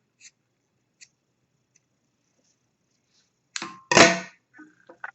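Scissors snip through crochet yarn after weaving in the end of a ripple dish towel: a couple of tiny faint clicks, then two close, sharp cuts and a few soft handling ticks.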